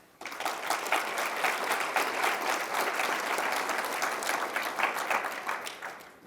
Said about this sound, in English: give every last one of our members a round of applause